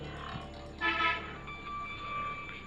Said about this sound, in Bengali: হ্যান্ডেলটা ঘুরিয়ে দিলাম আর আমার ট্রেন চালু